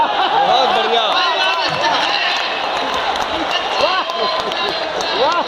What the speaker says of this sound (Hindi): विधायक जी भी ताली बजा रहे हैं।